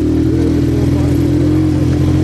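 A motorcycle rides along a road in high mountain country, its engine a loud, steady drone with wind rumble throughout, while a voice talks over it.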